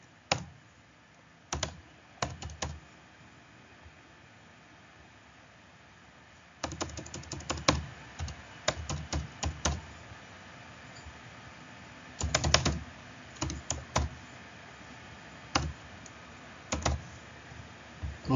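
Someone types on a computer keyboard in short bursts of clicking keystrokes separated by quiet pauses, close and fairly soft, with no talking.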